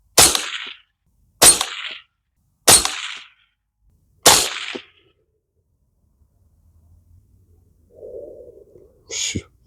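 Four sharp, loud gunshots from a Bear Creek Arsenal .22 Magnum rifle upper ring out at roughly even intervals outdoors, each with a short decay, followed by quiet and faint rustling.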